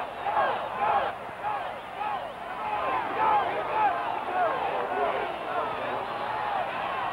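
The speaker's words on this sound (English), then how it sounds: "And the Houston crowd yelling" Football crowd at a Houston stadium yelling and cheering during the 1962 AFL Championship game, a dense steady roar of many voices that swells and dips slightly throughout.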